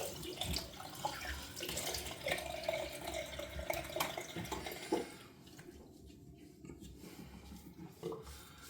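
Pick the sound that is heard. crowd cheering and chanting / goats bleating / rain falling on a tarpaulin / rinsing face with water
rinsing face with water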